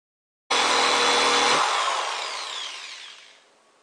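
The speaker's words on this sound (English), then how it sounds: "we're going to drill some small holes in the plunger" A power drill bores small holes into a plastic plunger for a 5-gallon bucket washer, starting abruptly with a loud whine that holds for about a second, then spins down and fades gradually, with no talk.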